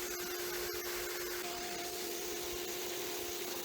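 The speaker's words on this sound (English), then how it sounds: "we're going to start the drilling process, going slow, trying to pull out any shavings" A drill bores slowly into an aluminum radiator during a repair, its faint grinding and rubbing buried beneath the loud, constant whine of a vacuum running close by throughout.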